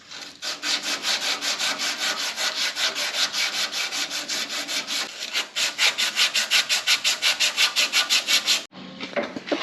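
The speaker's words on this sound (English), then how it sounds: "I think I'm gonna get some sandpaper and just start to clean this up a little bit." Sandpaper is rubbed back and forth over the rusty surface of a Butcher Boy bandsaw in steady, quick strokes. The loud, close scratching runs almost without a break for about nine seconds, then stops abruptly.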